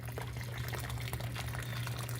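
Boiled water poured from a kettle into a pan for water bath canning, a continuous soft splashing stream with a steady low hum underneath, fairly quiet and unbroken.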